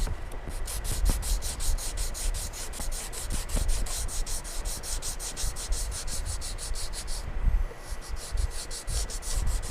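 Sandpaper rubs over body filler on the quarter panel of a 2017 Chevrolet Sonic, steady rhythmic back-and-forth scraping strokes, close and continuous with a brief pause near the end.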